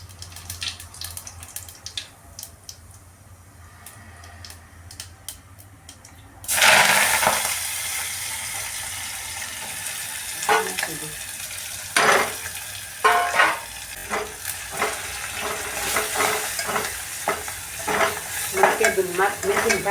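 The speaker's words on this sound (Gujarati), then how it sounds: "પછી જીરું નાખીને વઘારીએ" Cumin seeds dropped into hot oil for tempering set off a sudden loud sizzle that keeps crackling and spattering, with stirring and a few sharp clatters over it, after a quieter stretch of kitchen background.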